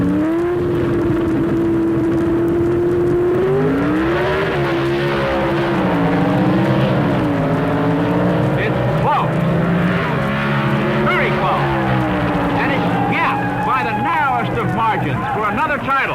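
At the 1975 NHRA US Nationals, four-door drag racing cars launch with a rising, droning engine whine that climbs and wavers throughout. Steady announcer commentary runs over the engines.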